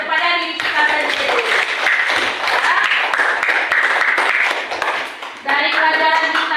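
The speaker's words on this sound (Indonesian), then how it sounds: "Sekarang kita tepuk tangan kepada diri kita sendiri." A classroom of students claps for themselves after a lesson, a burst of dense, lively applause that swells and continues for several seconds, with a teacher's voice before and after.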